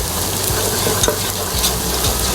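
Chopped ginger and garlic fry in hot oil for chicken Schezwan fried rice, giving a loud, steady sizzle close by. Occasional soft stirring scrapes sound through it, and nobody speaks.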